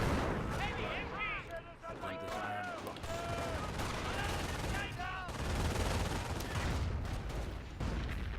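Two machine guns in Company of Heroes, a real-time strategy game, rattle in dense continuous bursts amid a busy battlefield din, with game voices calling out over the gunfire.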